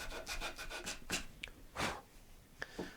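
Quarter-sawn mahogany guitar back bracing being cleaned up by hand with sandpaper or a razor, giving a series of short dry rubbing and scraping strokes, close and fairly quiet, with no talking.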